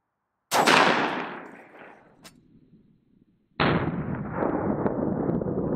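Two loud rifle shots from an AAC 5.56 firing 77gr Sierra MatchKing HPBT rounds, each a sharp close crack with a decaying echo tail, spaced about three seconds apart with a faint click between.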